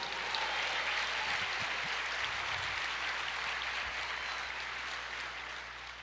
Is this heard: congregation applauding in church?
yes